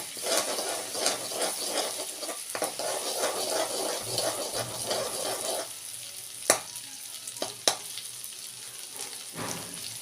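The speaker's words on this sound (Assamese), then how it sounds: "এইদৰে 1 মিনিটমান মই এইদৰে ভাজি লৈ" Ginger garlic paste frying in a pan for paneer butter masala: a steady hissing sizzle with stirring scrapes, dropping quieter about halfway through, then a few sharp clicks of a utensil against the pan.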